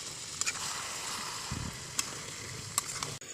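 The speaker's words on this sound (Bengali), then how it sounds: "জলটাকে আমি খুব ভালো করে শুকিয়ে নেব কষিয়ে কষিয়ে" Elephant foot yam stalks stir-fry in a pan as their released water cooks off, giving a steady close sizzle with a few brief scraping stirs and clinks, no voices.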